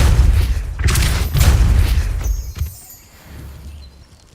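Depulso spells cast in a Harry Potter video game: several loud, booming blasts in quick succession, then a sharp final crack and a quieter low rumble fading out.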